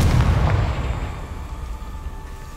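A Confringo fire-blast spell from Hogwarts Legacy bursts in a loud, deep boom that rolls out and fades over a couple of seconds, with no voices.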